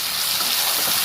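Water from boiled mushrooms pours out in a steady, close hissing gush, a continuous splashing rush with no pauses.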